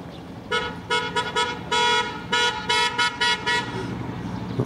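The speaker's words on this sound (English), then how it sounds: "Lots of noisy passings of vehicles." Vehicle horns honking on a road near Ganden Monastery in Tibet, a series of loud, close, rhythmic toots of varying length over a rumbling traffic background.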